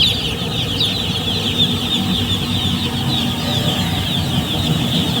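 Chickens cluck steadily in a poultry shed while pecking at grain feed, a dense chorus of overlapping clucks and chirps that runs without a break over a low background hum.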